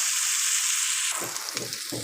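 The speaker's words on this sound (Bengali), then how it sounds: "কড়াইশুটি এটাকে ভালো করে ভেজে নেব" Loud hissing sizzle of green peas and vegetables frying in a pan, continuous, with a sharper burst and crackle as vegetables are stirred or added partway through.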